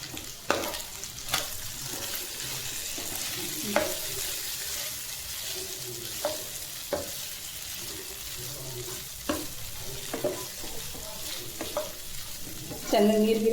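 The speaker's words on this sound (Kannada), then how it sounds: "ಇದೇ ಪ್ಯಾನ್ಗೆ ಇವಾಗ ಚಿಕನ್ ಹಾಕಿ ಸ್ವಲ್ಪ ಫ್ರೈ ಮಾಡ್ಕೊಳ್ಳೋಣ." Marinated chicken for chicken sukka fries in a pan of reused oil with no added water, a steady sizzle broken by a dozen sharp scrapes and clanks as it is stirred.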